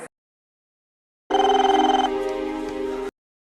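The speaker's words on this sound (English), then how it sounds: "Jessica get her phone and call the legal husband of Janice, John's mistress" A telephone rings in an indoor domestic setting, a steady electronic ring with a bright tone that begins abruptly, holds for about two seconds and then cuts off, heard alone without voices.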